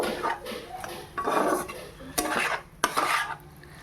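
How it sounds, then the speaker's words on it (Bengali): Fried vegetables with plenty of tomato sauce stirred in a pan, a spoon scraping and clinking against the metal in several short bursts with faint sizzling between strokes. "আমার ভাজা ভুজি একটু সস দিয়েও নেড়ে নেব"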